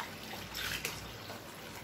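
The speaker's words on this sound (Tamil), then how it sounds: "இதுல வந்து தண்ணி சேர்த்துக்கலாம்" Water pours into a cooking pot for a couple of seconds, a soft continuous splashing pour with no talking.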